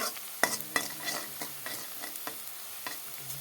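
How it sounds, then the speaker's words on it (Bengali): Onions frying in a pan for a Bengali rui fish curry, with a spoon or spatula scraping and stirring in sharp, irregular strokes over a soft, steady sizzle, close and fairly quiet. "পেঁয়াজগুলো লাল হয়ে গেল দেখো এখানে"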